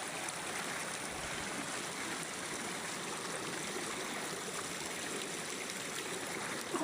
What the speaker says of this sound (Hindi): देखो पानी अंदर से निकल रहा है